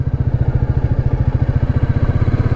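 A Royal Enfield Meteor 350 motorcycle thumps along at a steady pace, its single-cylinder exhaust pulsing in a rapid, even rhythm, loud and close with no voices.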